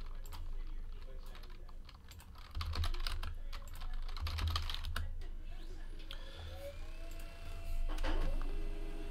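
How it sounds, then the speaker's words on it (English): Fingers tap out a short message on a computer keyboard in irregular bursts of light clicks, fairly faint and close, with a quiet room background and no talking. "I'm going to type in TWC in the chat"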